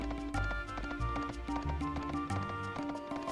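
A chocobo runs in the video game Suikoden 3, its rhythmic hoof-like clip-clop footfalls set over looping game music.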